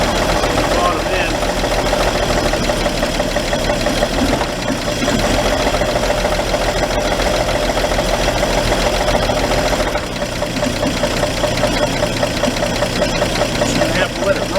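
An engine idles with a rattly, knocking bottom end, a steady loud mechanical clatter running without pause, close up under occasional speech.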